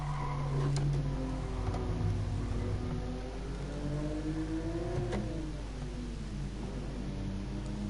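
Race car in the GT Sport video game at Monza, its engine revving up and down through gear changes at moderate volume over a constant noisy background.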